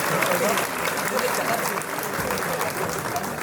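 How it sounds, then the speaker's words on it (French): Sustained applause from a graduation-ceremony crowd at a Brussels secondary school, a dense steady wash of clapping filling the whole stretch with some voices mixed in underneath. "Alors, tonnerre d'applaudissements"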